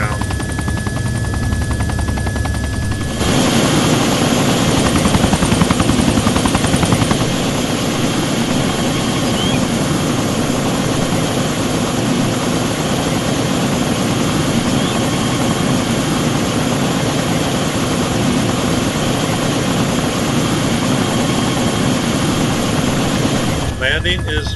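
In a video game, a helicopter flies and circles near a village and an airfield while its engine and rotor roar continuously and loudly for the full stretch, with a brief quieter lead-in before the full roar.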